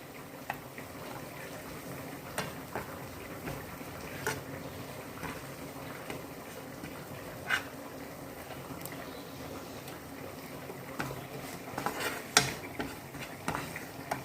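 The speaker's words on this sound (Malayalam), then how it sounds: "ഇനി ആവശ്യത്തിനുള്ള മല്ലിപ്പൊടിയും കൂടി ഇട്ട് ഒന്ന് വഴറ്റിയെടുക്കുക." Coriander powder sautés in Dalda fat in a pan, giving a quiet, steady sizzle with occasional soft clicks of stirring throughout.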